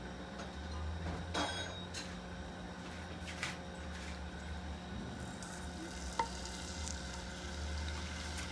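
Garlic and ginger frying in a small amount of oil for Manchurian sauce, a steady quiet sizzle with a few stirring scrapes and one sharp clink, heard alone without talk.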